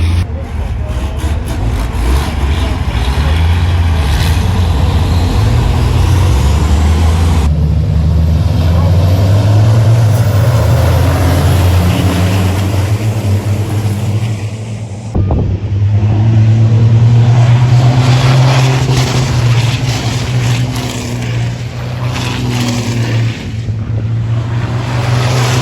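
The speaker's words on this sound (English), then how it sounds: "So obviously we've been watching the trucks go" Racing trucks driving at Thruxton Circuit, a loud continuous engine roar that swells and fades as they pass, with a heavy low drone and wind buffeting throughout.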